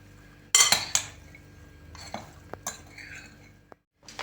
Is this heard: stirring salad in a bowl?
yes